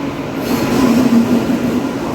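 The Coromandel Superfast Express rolls loudly into a station platform at close range, a heavy rumble with a sustained metallic wheel squeal running through it.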